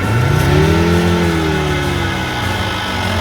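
Loud, close engine of a Volvo V70 with half its engine missing, climbing in pitch as it revs, then holding at a steady high drone.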